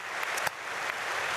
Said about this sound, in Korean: 우리 준비위원들 위해서도 박수하겠습니다